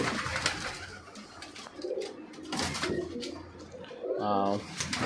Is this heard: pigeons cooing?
yes